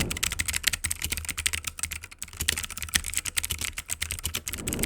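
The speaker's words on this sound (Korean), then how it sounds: "이 친구는 청초 키보드답게 굉장히 시원시원한 느낌의 타건음을 갖고 있는데" Fast, continuous typing on a clicky mechanical gaming keyboard, crisp close-up keystrokes in a busy irregular rhythm, with no voices.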